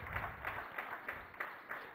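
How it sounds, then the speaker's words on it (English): Faint, distant audience applause at a ceremony where a Governor felicitates badminton champion PV Sindhu, with soft rhythmic clapping pulses rising and falling over a low room murmur. "Let's give a big round of applause"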